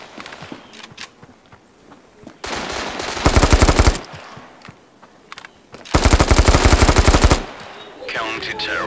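AK rifle fire in the mobile shooter Standoff 2, two long loud automatic bursts of rapid shots separated by quieter footsteps and movement.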